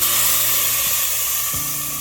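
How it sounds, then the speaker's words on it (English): Meat laid skin side down in a hot pan sizzling loudly, a steady close frying hiss with a faint hum underneath and no talking. "Hear that good sizzle?"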